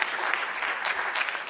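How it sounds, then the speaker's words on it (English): Brief burst of audience applause at a youth trade convention, dense and steady throughout the short moment. "let's give them a round of applause"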